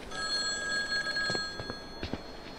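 A telephone rings in the horror mobile game Mental Hospital IV, a steady electronic ring with sustained tones running throughout, alongside a few soft knocks and thuds from the game.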